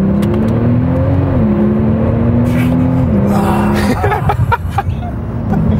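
A Porsche 911 Turbo S of the 991 generation accelerates hard on the Bilster Berg racetrack, its engine note climbing in rising sweeps with a gear change, heard loud from inside the cabin before the roar breaks into rumbling.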